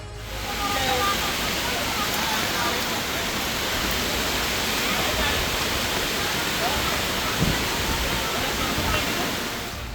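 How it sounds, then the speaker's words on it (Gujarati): Floodwater from a river rushes across a road in Bharuch district, Gujarat, after torrential rain, a loud, steady broadband roar that holds constant throughout with no voices. "રસ્તા પરથી નદીનો ધસમસતો પ્રવાહ વહેવા લાગતા રસ્તો બંધ થયો હતો"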